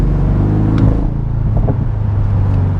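A Porsche 718 Boxster GTS engine drones loudly and close, a dense low rumble with a brief throttle blip, heard alone without talk.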